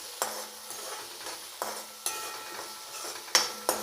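Tomato is stirred into frying onions for masala khichdi, a spoon scraping the pan in several sharp strokes over a steady low sizzle, close and clear with no talking.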